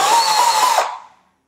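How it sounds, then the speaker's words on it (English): A power drill running a 1/8 inch bit through a hole in a pixel wreath for an outdoor Christmas light display, one close, steady whine lasting under a second, then spinning down and fading out. "So the next step is taking a 1/8 inch drill bit"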